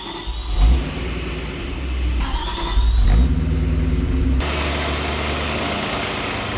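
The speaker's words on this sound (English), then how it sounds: "Engine sounds healthy." A rebuilt BMW E92 M3 engine runs nearby, starting with throttle blips that rise and fall. It then settles into a steady, even idle hum.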